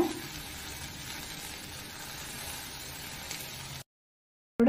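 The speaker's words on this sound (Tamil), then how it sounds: "ஃப்ளேமை ரொம்ப கம்மி பண்ணிக்கோங்க. லோ ஃப்ளேமில் வச்சு ஒரு 5 மினிட்ஸ் குக் பண்ணிக்கோங்க." Ivy gourd masala frying gently on a low flame, a steady soft sizzle close by with faint stirring, then a brief cut to silence before a short burst of sound.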